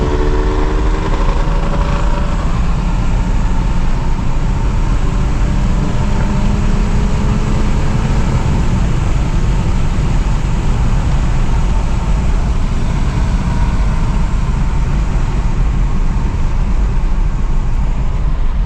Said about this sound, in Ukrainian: Ось ми їдемо. Автоматик нормально перемикає, а ну гофра.